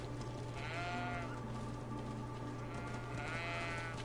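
Two drawn-out goat bleats in the video game Greedfall, one early and one near the end, ring out over a steady low electronic hum and busy background ambience.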